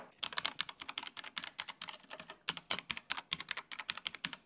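Rapid typing on a Rampage KB-R28 Blade Plus mechanical keyboard with red linear switches, crisp clacks in quick irregular bursts, close up with no voices.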